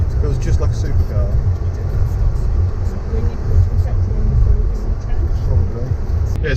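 Rental car with a manual stick-shift gearbox driving along a narrow road in Majorca, with steady engine and road rumble throughout, loud and close, under continuous talk from people inside the car.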